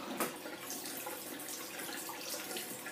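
Tap water runs steadily into a sink while makeup brushes are washed, a continuous close hiss of flowing water with no speech over it.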